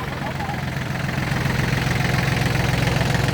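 A 36 hp John Deere tractor with 762 hours in original condition runs close and loud, its diesel engine throbbing steadily and rising slightly in intensity, with someone talking over it.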